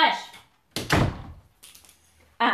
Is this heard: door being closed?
yes